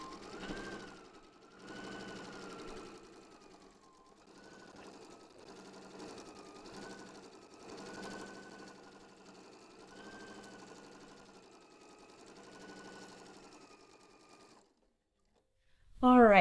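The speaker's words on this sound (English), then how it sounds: "I'm going to go ahead and probably top stitch these backing pieces" A sewing machine top stitches fabric backing pieces for a pillow, running in a steady close whir that briefly slows and resumes several times before stopping, followed by a short loud noise at the end.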